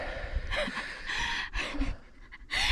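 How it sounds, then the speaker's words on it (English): A hiker breathes hard and pants loudly while climbing a volcano trail, with several bursts of heavy, rhythmic breaths close to the listener. "already panting like a dog"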